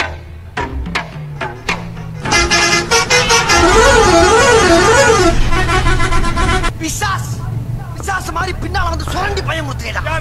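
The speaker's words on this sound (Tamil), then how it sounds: "Private bus horn." A private bus horn blares a loud, warbling musical tune for about three seconds amid busy road noise, with shorter honks and vehicle sounds before and after.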